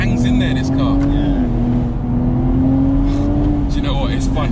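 A 2019 BMW Z4 M40i engine drones steadily at high revs, holding a sustained whine under a voice talking.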